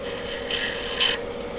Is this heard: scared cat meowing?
no